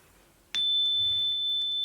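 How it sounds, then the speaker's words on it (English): A chime struck once for third-eye chakra healing, sounding a single bright strike that settles into a long, clear sustained ring, close and alone with no voices. "and the chimes to amplify and clear the energy today"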